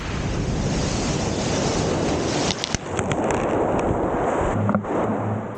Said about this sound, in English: I get caught off guard by one of the rogue waves.